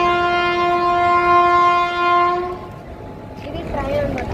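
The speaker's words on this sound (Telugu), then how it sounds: "మనకి ట్రైన్ వచ్చింది నెక్స్ట్ ప్లాట్ఫారం పైకి" A Nagercoil train pulling into a station platform sounds a long, loud multi-tone horn for about three seconds, then it fades into rumbling wheels and station noise with faint voices.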